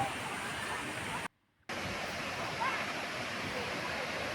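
Mauk Lek waterfall in Thailand rushes in a steady broadband roar, interrupted by a brief moment of silence before the pouring water resumes.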